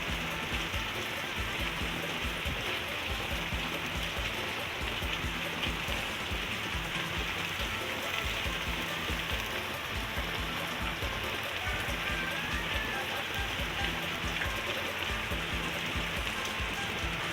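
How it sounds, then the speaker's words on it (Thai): Heavy rain falls steadily in southern Thailand, a constant dense hiss of drops on surfaces that stays even and loud throughout, with no voices over it. "วันนี้ฝนก็ตก"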